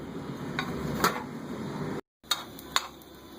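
Cumin seeds roasting in a pan, stirred with a utensil: a soft steady sizzle under sporadic sharp clinks and scrapes of metal against the pan, with a brief silent gap midway.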